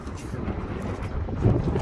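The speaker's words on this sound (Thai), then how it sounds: "วันนี้ลมแรงมากครับ" Strong wind buffets a microphone in an open parking lot beside a market in Saraburi, producing a steady low rumbling roar that swells slightly toward the end.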